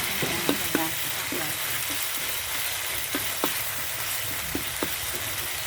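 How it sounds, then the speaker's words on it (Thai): Homemade red curry paste for chicken and pumpkin curry sizzles as it is stir-fried in a large pot, with a continuous hiss and scattered clinks from the utensil. "ผัดพริกให้พอขึ้นมันจ้ะพริกขึ้นมันก่อน ผัดไปเรื่อยๆค่ะทุกคนให้พริกขึ้นมันสวย"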